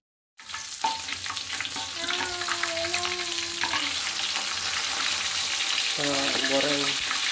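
Pomfret fish fries in hot oil in an outdoor cooking setting, a loud continuous sizzle with crackling spatters throughout, joined by brief clinks and scraping of a utensil against the pan.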